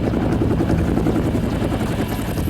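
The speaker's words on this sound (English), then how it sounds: "Lithgow's character Quaylen is approaching him with a helicopter." A helicopter approaches in a mountain action film scene, its rotor a loud, steady pulsing thump with a constant engine drone, close and filling the scene with no speech.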